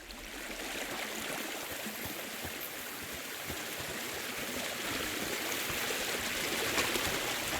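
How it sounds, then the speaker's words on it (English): Running water flows steadily through a flooded cellar in Kingdom Come: Deliverance II, a continuous close rushing stream with gurgling texture and no voices. "Usually there's only a small trickle running through here. The water must have risen."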